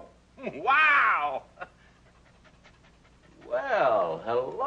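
A dog pants in two loud breathy bursts close by, with a short pause and a faint thump between them; no other talk is heard.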